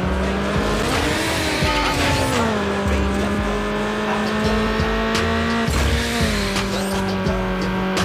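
Race cars in the Need for Speed Underground Rivals game on PSP roar continuously at close range, engine pitch climbing and dropping through gear shifts, with tire squeals and skids layered over a loud, unbroken mix.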